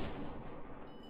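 A heavy, booming gunshot blast in the video game Fallout New Vegas, one loud, dense burst that fills the moment and then decays, with no talk over it.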